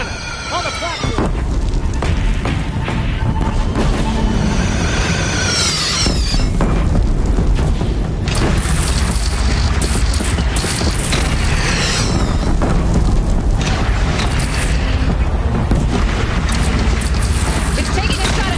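Cannon fire and heavy explosions boom through a Horizon video game battle, loud and repeated across the whole stretch and layered over constant voices and game noise.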